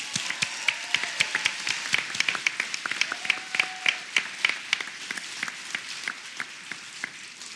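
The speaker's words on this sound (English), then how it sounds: "Why don't we give Councilmember Moreno another round of applause?" Audience applause for a councilmember at an oath of office ceremony, steady clapping of a modest crowd with distinct individual claps throughout, moderately loud and fairly close.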